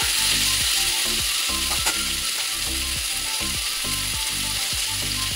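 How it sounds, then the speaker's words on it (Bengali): A frying rohu fish curry mixture with ridge gourd and potato is stirred in a pan under a loud, steady sizzle, with a repeated rhythmic scraping pattern running throughout and no talk. "এটাকে ভালো করে মিক্স করে নিচ্ছি। আর একবার নেড়ে নেব।"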